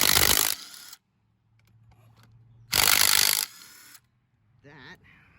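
Socket wrench work on the front end of a 2001 Suzuki Marauder VZ800 motorcycle, removing 14mm bolts near the brake caliper: two loud bursts of harsh ratcheting or spinning noise, separated by quiet gaps and a low hum, followed by a short squeaky scrape.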